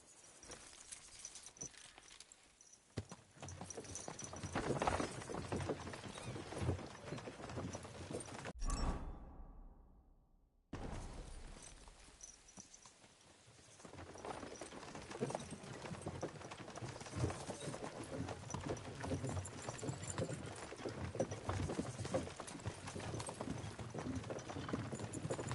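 A horse trots in Kingdom Come: Deliverance II, its hooves making a faint, steady clip-clop over a long stretch. A short quiet gap breaks it before the hoofbeats resume with soft ambient noise.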